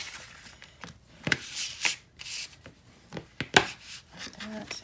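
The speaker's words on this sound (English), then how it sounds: "we're going to burnish" Tape being burnished down on a paper mini album, a series of short dry rubbing and scraping strokes, close and fairly quiet, with small pauses between passes.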